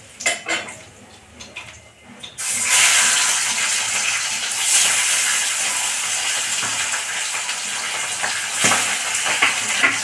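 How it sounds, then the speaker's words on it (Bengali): Fish fries in hot oil in a home kitchen, a loud continuous sizzle that starts abruptly after a few soft clatters, with utensil clinks over the top. "মাছ ভাজা হয়ে গেছে, মাছগুলোকে তুলে নেবো আর বাকি মাছটা এইভাবে ভেজে নেবো।"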